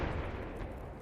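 A grenade explodes in a first-person shooter video game, a loud, dense burst of blast and rumble that fills the whole second at close range.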